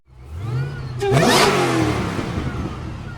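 A 1000HP Holden E2 Maloo with a 6.2-litre LS3 engine on factory LS3 heads revs hard and close. A deep idle swells into a sharp rising roar that holds at a loud, rough drone.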